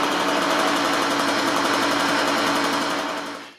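A Puch X30 moped engine with a new exhaust idles steadily with a fast, even buzzing putter, close and continuous, then cuts out at the end.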